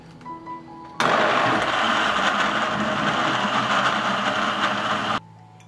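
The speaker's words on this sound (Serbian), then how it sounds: "I na kraju ću sve ovo izblendirati." A blender switches on and whirs a lemon juice and water drink, a loud, dense roar that starts abruptly, holds steady for about four seconds, then cuts off sharply.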